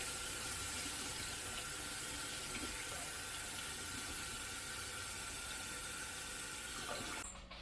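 Tap water runs steadily into a sink over herring fillets being rinsed, a continuous close hiss and splash that cuts off abruptly at the end.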